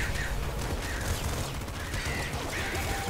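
Rapid bursts of gunfire and bullet impacts from the video game Nuclear Throne crackle densely and continuously at close range, with harsh overlapping blasts and electronic tones.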